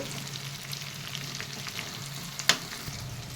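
Hotel-style chicken 65 sizzling steadily in hot oil, a soft continuous crackle with one sharp clink of a utensil near the end, no talking.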